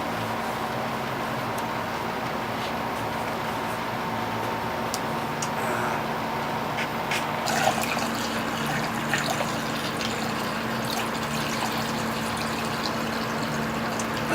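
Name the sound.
homemade wine flowing through a siphon hose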